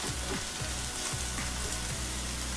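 Thinly sliced garlic cloves cook gently in a cast iron skillet, giving a steady soft sizzle with faint crackles and occasional stirring scrapes close by.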